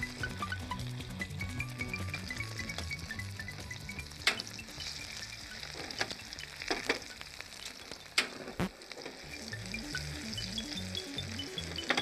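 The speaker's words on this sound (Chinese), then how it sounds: "两面都要煎黄" Beef rolls coated in flour and egg yolk shallow-frying in a pan until golden, a steady close sizzle with occasional sharp clinks and stirring noises.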